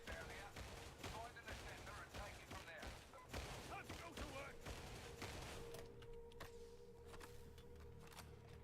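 Rapid bursts of SMG gunfire in Warhammer 40,000: Darktide crackle almost nonstop, loud and close, with someone talking over them before the firing thins out near the end.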